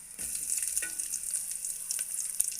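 Onions dropped into a hot mustard, cumin and garlic tempering for green chilli dal, a continuous bright sizzle with light stirring scrapes, close by, no voices.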